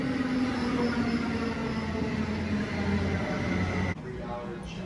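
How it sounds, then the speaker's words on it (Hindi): A train draws in at a station in Switzerland, giving a loud, steady rumble and hiss that cuts to a quieter hum near the end. Voices murmur faintly underneath. "चलें जी, हमारी ट्रेन आ गई।"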